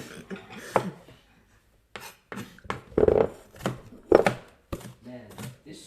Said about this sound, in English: Just fucking swing the knife until you chop them fine enough.